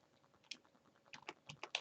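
Someone types on a computer keyboard with a short run of light, close key clicks that speed into a quicker burst near the end, quiet and without talk.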